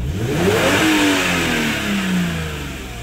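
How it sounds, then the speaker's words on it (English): The engine of a 2004 Lexus IS300 is revved hard at wide open throttle, and a loud, close roar sweeps upward in pitch, holds, then eases back, with no talking. "the most important part here is when we do a wide open throttle test"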